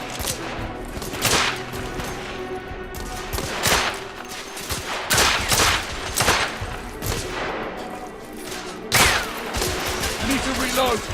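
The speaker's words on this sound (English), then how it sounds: "I just don't like doing blind fire with the pistols in here." Pistol gunfire in The Order: 1886 on hard difficulty, sharp shots fired in irregular bursts with gaps between them, loud and close amid battle noise, with someone talking over the action.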